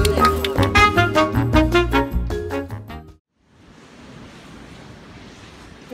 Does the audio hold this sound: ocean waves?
yes